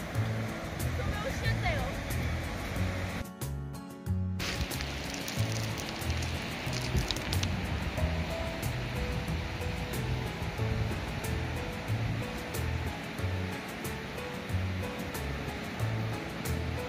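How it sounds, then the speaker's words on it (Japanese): Ocean waves wash and break in a steady roar, with wind gusts and a brief muffled dropout partway through, at sea with many seagulls offshore. "この日は午後に風は弱くなりましたが、波はまだありました。"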